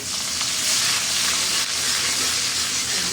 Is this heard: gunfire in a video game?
no